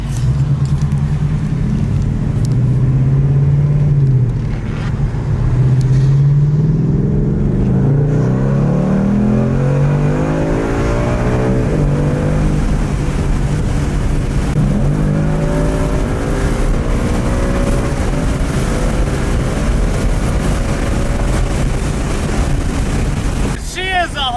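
A 2018 Ford Mustang GT on an E85 tune accelerates on the highway, its V8 roaring loud with rising engine tones through gear shifts, then settling into a steady cruising rumble with wind noise.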